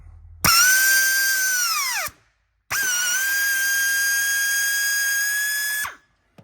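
A power drill drives a threaded insert nut into a wall hole during a van build, two sustained high whining runs of about a second and a half and three seconds, each winding down at the end, close and loud with no talk.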